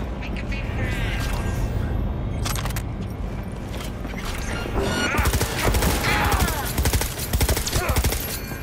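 Rapid gunfire in the video game Cyberpunk 2077 comes as clusters of sharp cracking bursts over a constant loud game backdrop, growing denser and more insistent toward the end.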